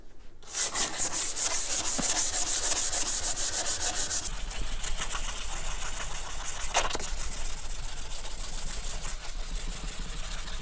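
Continuous rhythmic rubbing of 180-grit sandpaper on a car fender, steady back-and-forth strokes, close and fairly loud, with a faint hum underneath.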